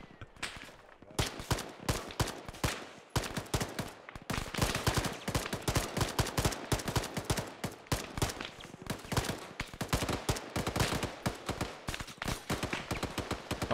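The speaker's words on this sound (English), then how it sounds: "Well, there's a lot of gunfire going on" Heavy gunfire from the Arma 3 military game: rapid, dense volleys of shots and automatic bursts crackle almost continuously, loud and close, with only a short lull near the start and no talking.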